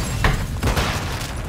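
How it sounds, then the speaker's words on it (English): A grenade goes off in the video game Call of Duty MW2, giving two heavy booms about a third of a second apart over loud, continuous battlefield noise. "Grenade!"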